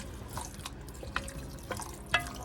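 Water poured from a 2-cup measuring cup into a pan, splashing and trickling softly with a few sharper drips, a spoon scraping the bottom now and then, close and quiet.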